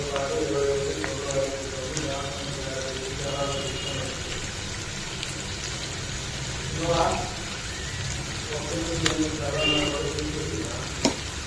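Mutton curry with red chilli powder stirred in a pan, giving a continuous loud sizzle broken by scraping strokes and a few sharper knocks, with a voice faintly present beneath.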